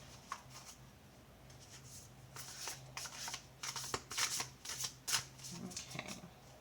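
A Shaman's Dream Oracle card deck being shuffled by hand: soft, papery riffles and flicks come in irregular bursts, growing busier toward the end, close and fairly quiet.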